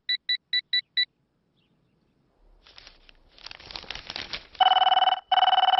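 A telephone rings in short electronic bursts, five quick pulses at first and then two longer, louder rings after a stretch of rustling and shuffling noise indoors.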